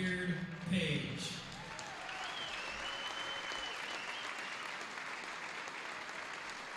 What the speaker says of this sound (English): one more round of applause for our first inductee this year, Mr. Wilson Beard.